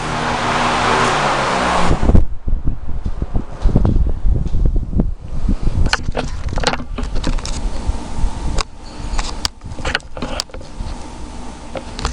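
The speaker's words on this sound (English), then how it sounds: "a very nice long spin down time." A vintage Lakewood HV18 high velocity fan with heavy blades roars loudly for about two seconds, then is switched off; a quieter whirring spin-down follows, dotted with clicks and rattles.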